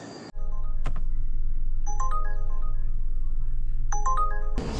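Short electronic chime alert from a cellphone announcing a food delivery order, two quick bright tone sequences about two seconds apart over a loud steady background rumble, with no talking.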